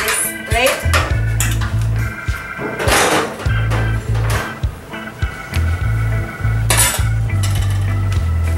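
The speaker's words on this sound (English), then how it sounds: "Okay, guys, so now I'm going to put my salad on there. On the plate." Jicama and pineapple salad is moved onto a plate with clattering utensils: repeated clinks and scrapes of serving tools on dishware come close and loud, with low bumps between them.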